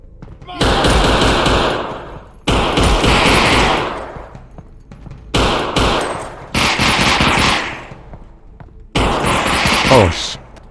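Rapid automatic gunfire in a VR shooter game, four or five loud sustained bursts separated by short gaps, with a voice briefly heard between them.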